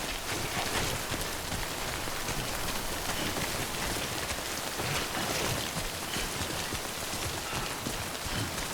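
Timefall rain in Death Stranding pours down as a dense, even hiss of drops striking surfaces, steady and close for the whole stretch with no voices.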